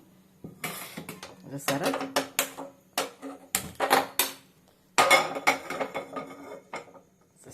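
A metal pan clatters and knocks onto a stovetop, ready for tempering, a run of sharp, close bangs and scrapes in uneven bursts with a brief voice over them.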